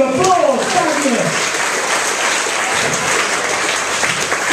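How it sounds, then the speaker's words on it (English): An audience at a stage and cabaret magic show breaks into loud, sustained applause that fills the whole stretch, with a voice speaking briefly at the start. "Give Daniel a round of applause!"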